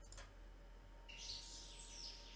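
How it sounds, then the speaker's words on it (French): Small birds chirp in a nature sound effect: a couple of quick high tweets at the start, then a brighter run of twittering calls over faint steady background hiss, fairly quiet overall. "eh bien, on a des petits oiseaux."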